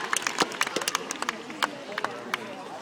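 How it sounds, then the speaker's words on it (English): An audience claps for a performer dressed as Galileo at a pumpkin drop event, a scattered burst of close handclaps with crowd murmur and voices underneath. "Let's give him a round of applause one more time."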